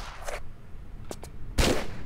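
Gunfire in the Tomb Raider game, a short burst near the start, a pair of quick cracks around the middle and a louder, fuller shot later, with low background noise between them.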